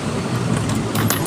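Coins jingle briefly in a hand by a roadside, a quick metallic rattle heard over faint traffic noise.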